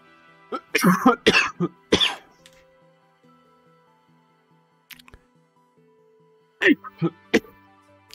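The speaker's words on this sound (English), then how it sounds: "Again, apologize for the coughing." Several harsh coughs come in a quick cluster, then a pause with faint clicks, followed by a few more coughs close by, during play of Might and Magic II on a Mac II.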